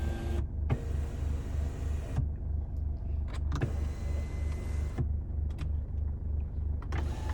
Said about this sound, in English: here is where you control your panoramic roof, just there. So we'll open that up a little bit.